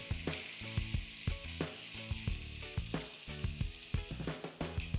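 Beef pieces fry for beef and broccoli, sizzling and crackling steadily in a hot pan. Close, dense spitting pops run throughout, with tonal sound beneath.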